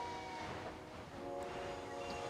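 A train in the video game Locomoto rolls along with a steady mechanical hum and faint whistle-like tones, moderately loud and continuous with no talk.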